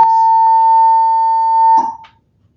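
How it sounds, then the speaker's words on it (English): A fire alarm system test sounds as a single loud, steady electronic tone that holds for almost two seconds and then cuts off abruptly into silence. "Please disregard the fire alarm until further notice."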